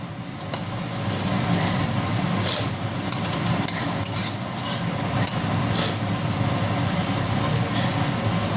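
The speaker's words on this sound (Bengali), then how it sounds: "আবার একটু নাড়া দেবো। ভাজতে ভাজতে আমার আলুটা গলে যাবে।" Potatoes fry in a pan for atta chow mein while a utensil stirs them, giving a close, steady sizzle broken by repeated scraping and clattering strokes.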